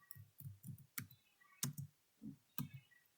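Quiet keystrokes on a computer keyboard tap out a short command in uneven bursts of clicks, close by with no talking.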